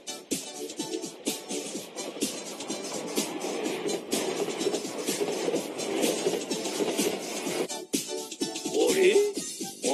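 A Hokuetsu Express Hakutaka limited express train rushes past nearby, a steady rolling roar with rhythmic clatter of wheels over rail joints, rising slightly toward the end.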